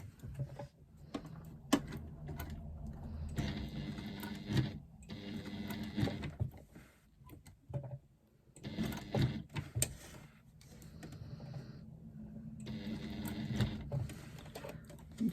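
A sewing machine stitches a flap onto a bag exterior in several bursts of whirring, stopping and restarting between runs, close and moderately loud.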